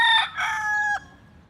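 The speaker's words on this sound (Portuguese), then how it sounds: "Sim, Honolulu está cheio de galinhas selvagens." Wild chickens and roosters in a park in Honolulu, with a rooster crowing loudly and close by for about a second before the call cuts off, followed by quiet background.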